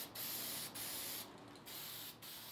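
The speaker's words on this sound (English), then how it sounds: "spray them with some black spray paint" Black spray paint hissing from an aerosol can onto plastic parts in several long bursts separated by brief pauses, close and fairly loud.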